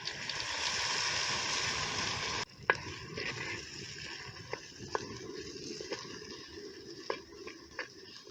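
Ground thuthuvalai chutney hits hot oil with popped mustard seeds in a pan, a loud sizzling hiss that drops suddenly to quieter crackling and scattered pops and stirring clicks.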